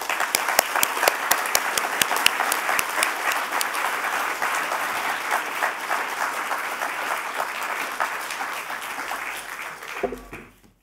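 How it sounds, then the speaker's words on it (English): A crowd at a public conversation with Indigenous leaders in Minnesota gives a long round of applause, many hands clapping in a steady, full wash for about ten seconds before it quickly dies away. "let's give our speakers a big round of applause"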